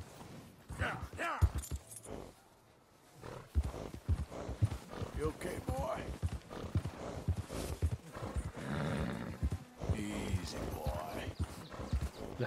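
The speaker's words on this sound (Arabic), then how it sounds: "الحصان منزعج، يمكن" A horse in the Red Dead Redemption 2 video game clops its hooves in a steady rhythm and whinnies several times, close and fairly loud, under someone talking throughout.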